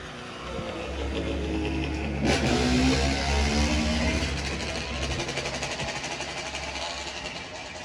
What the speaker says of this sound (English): I hear a dirt bike.